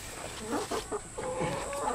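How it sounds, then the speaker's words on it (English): Chickens clucking in a newly built chicken yard after feed is thrown out, a string of short, close clucks and calls repeating over a steady outdoor background. "Get some chicken feed and throw out there."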